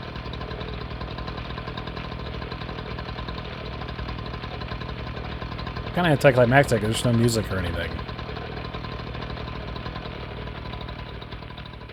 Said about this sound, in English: Just the sound of a chainsaw.